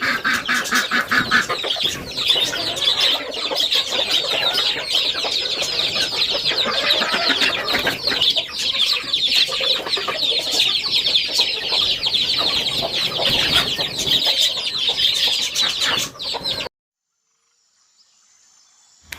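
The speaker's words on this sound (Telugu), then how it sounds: "కోళ్ళు కలిసి కోడి పిల్లలు ఇంకా బుట్టి కోడి పిల్లలు కూడా అరుస్తూ స్టార్ట్ చేసేస్తాయి" Chickens cluck and chicks peep continuously on a farm, where pigeons are also kept. The flock is close and dense, a steady busy chorus lasting about seventeen seconds before it cuts to silence.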